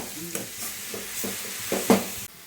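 Leafy Konkan vegetable being stirred into hot oil tempering (phodni) in a home kitchen, with soft continuous sizzling and a few scraping stir strokes, one louder clatter near the end, no talk.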